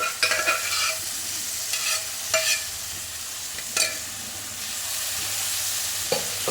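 Green mung beans with turmeric, red chilli and coriander-cumin powder are stirred in a pan, a steady sizzle broken by several scraping spoon strokes; no talk.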